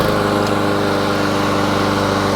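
Craftsman lawn mower with a Honda engine, freshly started on the first pull, running at a steady, loud idle with an even buzzing drone throughout, close by and with no talking.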